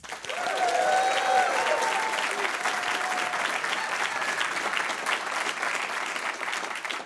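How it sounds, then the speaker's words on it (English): Sustained applause from a live radio show audience, steady clapping that fills the whole stretch with a brief rise early on, no voices standing out. "Do people always applaud when you start talking?"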